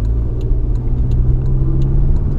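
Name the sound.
Toyota Corolla car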